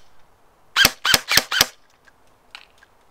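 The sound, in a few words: single shots from nylon Arcturus airsoft gun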